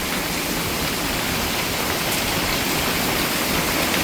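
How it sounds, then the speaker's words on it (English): Hail falls heavily on a roof, a dense, steady hiss of impacts with no pauses, loud and close. "It's fucking hailing now."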